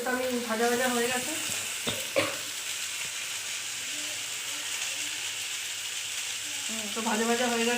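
Panch phoron and dry red chillies crackle and sizzle steadily in a pan with a few utensil knocks, while a voice talks briefly at the start and end.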